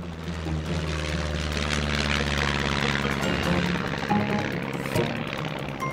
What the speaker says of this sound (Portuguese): Capitã Galinha, estamos prontos para a decolagem.